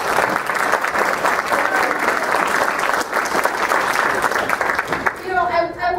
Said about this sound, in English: So another round of applause for Dwayne.